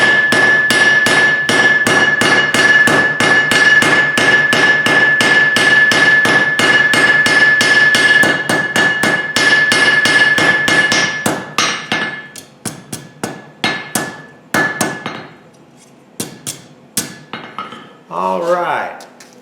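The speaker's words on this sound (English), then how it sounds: "use the rounding side of the hammer to spread it out." A blacksmith hammers hot metal on an anvil with the rounding side of the hammer to spread it into a leaf: about eleven seconds of rapid, evenly spaced ringing blows, then slower scattered strikes, with a brief voice at the end.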